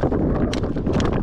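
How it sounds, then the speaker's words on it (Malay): Gusty wind buffeting a microphone out on the water while kayak fishing off Melaka, rough low rumbling bursts over about a second with a few brief crackles. "Angin."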